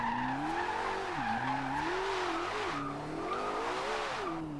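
In the video game Forza Horizon 2, a 1400 hp Porsche 918 drift hypercar spins its wheels at part throttle, a loud sustained engine drone that rises and dips in pitch over continuous tire squeal.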